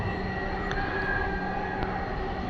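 A Dhaka metro rail train runs with a steady, close rumble and a sustained electric hum, broken by a couple of faint high ticks.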